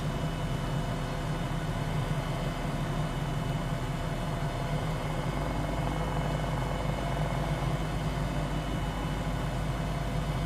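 A 500E helicopter cruises in flight near Boston, its engine and rotors a constant, even drone heard from inside the cabin, steady and unbroken throughout.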